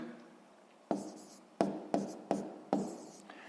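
Decimal numbers are written by hand while solving a sixth-grade math exercise, producing about five short, sharp scratchy strokes in quick succession, close and quiet, with no talk over them.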